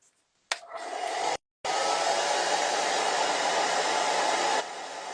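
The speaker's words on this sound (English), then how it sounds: "so I'll hit it with a hairdryer" Hair dryer blowing on wet paint: a steady, loud roaring whoosh that switches on, cuts out briefly, then runs again continuously and drops slightly in level near the end.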